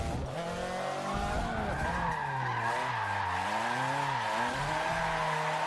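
Racing video game car drifting on a wet track in the rain, with a continuous engine roar that rises and falls in pitch and sustained tire skidding throughout, loud and close with no talking.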